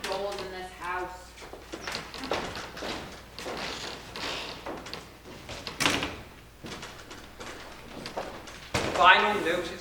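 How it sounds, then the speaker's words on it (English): Doors banging and thudding during a stage performance of the farce Noises Off, several sharp knocks and slams scattered among continuous actors' dialogue, with a louder bang near the end. "Nothing but flapping doors in this house"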